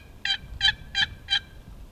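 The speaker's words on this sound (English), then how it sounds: "I can do a soft tree yelp with this" A wooden turkey box call struck softly for a tree yelp, giving four evenly spaced, raspy yelps at close range over a quiet background.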